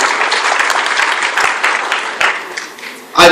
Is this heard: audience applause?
yes